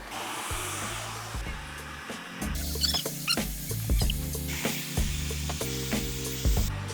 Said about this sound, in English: and then a good blow dry to have the perfect blowout